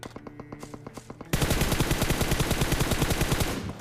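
Rapid automatic gunfire in the video game PUBG, a rhythmic burst of evenly spaced shots that jumps from quieter, more distant fire to loud, close, sustained fire, with no talk.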